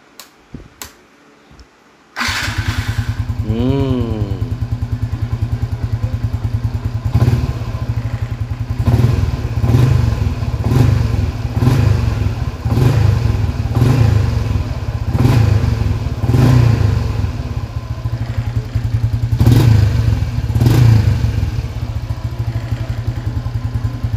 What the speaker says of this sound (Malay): Lepas tu kita pasang exhaust, and then kita boleh start motor ni.